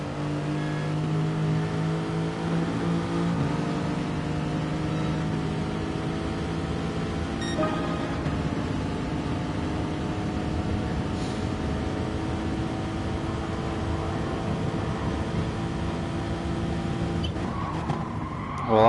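Race cars roar through a racing video game, a steady engine drone with rising and falling harmonic tones as cars overtake, loud and continuous with no talk.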